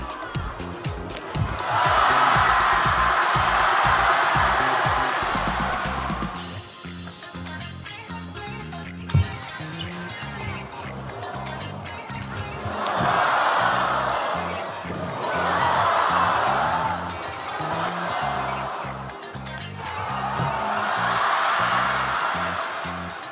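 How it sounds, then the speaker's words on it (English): Crowd in a table tennis hall reacting after a point: repeated swells of cheering and applause rising and fading, with ball bounces and scattered thuds in the gaps, heard from within the hall. "Just hear the crowd and the atmosphere in the hall after this amazing point"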